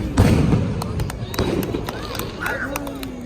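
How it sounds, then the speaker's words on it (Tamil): Firecrackers set off during an outdoor cultural program, giving a series of sharp cracks and pops scattered through the clip amid a busy background, with people talking nearby. "பட்டாசு சவுண்டுக்கு குழந்தைங்க பயப்படுறாங்கங்க"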